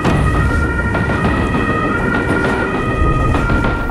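An ambulance siren (Martinshorn) sounds loud and close on an emergency run, its steady wailing tones held over the rumble of the moving vehicle throughout.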